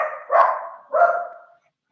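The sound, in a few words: dog barking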